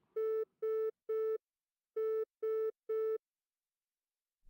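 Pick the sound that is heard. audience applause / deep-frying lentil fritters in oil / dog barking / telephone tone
telephone tone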